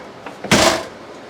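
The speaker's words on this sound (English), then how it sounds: "So let me shut this door here." The door of a 2022 Salem 26DBUD travel trailer is pushed shut with one short, fairly loud thud after a couple of faint handling clicks, then quiet.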